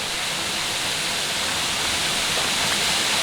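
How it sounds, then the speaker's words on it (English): A tall mountain waterfall cascading about 30 metres on a New Zealand alpine hike, a steady close roar of falling water filling the whole scene without pause. "We've got the cascading waterfall."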